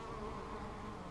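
A dense, steady buzzing of many honeybees in an open hive during inspection fills the air, close and continuous with no voices.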